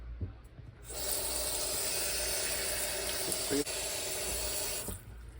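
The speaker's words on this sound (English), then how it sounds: "I'm going to run some water over these, some cool water." Cool tap water runs steadily for several seconds, splashing over food in a sink, then shuts off; nearby and fairly loud.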